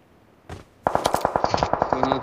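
Rapid automatic gunfire in a video game rattles out in a steady, evenly spaced string of loud shots after a brief burst of noise, continuing without pause to the end.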